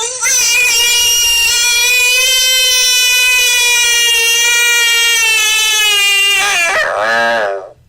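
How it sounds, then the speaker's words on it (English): Bullfrog distress call, a loud, sustained, nasal wail that holds a steady pitch for several seconds, then breaks into a shorter wavering cry before stopping. "that strange sound right there is a sound made by a bullfrog, and it's called its distress call"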